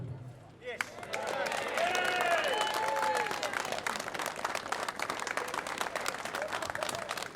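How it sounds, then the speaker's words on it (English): A protest crowd in Farnborough breaks into sustained applause, dense clapping swelling quickly and holding steady, with cheers and voices mixed in over the clapping. "Round of applause for Jez, please, guys."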